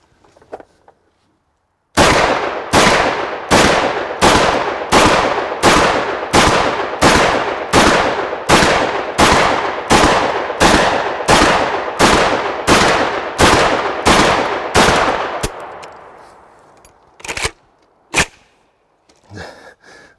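A VEPR 12 shotgun fed from a 25-round SGM drum magazine fires cheap Walmart ammunition in a steady rapid string of loud, close blasts at roughly even intervals, then a short pause and a few final separate shots.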